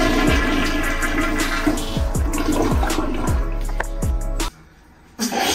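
A toilet in a California student flat flushes loudly up close, a rushing gurgle of water with repeated draining pulses before the noise cuts off abruptly into near silence and then resumes briefly.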